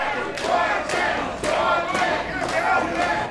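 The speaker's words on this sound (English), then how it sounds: "The crowd's on his side." A pro wrestling crowd cheers and roars in an arena, a loud, sustained wash of voices with rhythmic swells and chant-like pulses, no single voice standing out.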